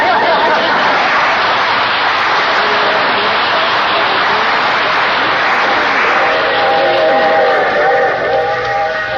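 A train ride effect from an old-time radio comedy: a steady rumbling rail clatter with a whistle-like tone rising near the end, loud and continuous beneath faint background chatter.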